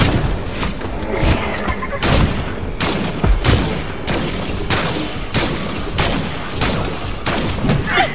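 Enemy gunfire in the sci-fi shooter Scars Above comes as a steady fusillade of loud, close shots and heavy thuds, repeated bursts over about eight seconds with no talking.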